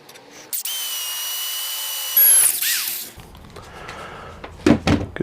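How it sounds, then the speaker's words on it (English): A power drill bores a hole in metal blacksmith tongs clamped in a vise, with a steady whine that rises as the bit bites, then clunks and handling knocks, close and without talk. "And let's drill a hole."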